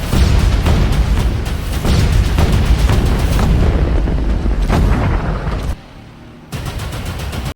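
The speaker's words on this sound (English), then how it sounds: "The closer the cannons became to the wall, they became stronger and their impact was more severe." Cannon fire against city walls, a dense barrage of heavy booms hitting one after another with a rumbling tail, briefly dropping away near the end before resuming.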